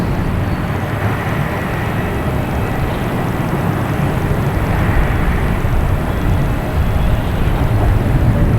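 Jet airliners at Boston Logan Airport, with planes lined up for takeoff; a loud, continuous broadband engine roar rumbles steadily throughout, with no speech.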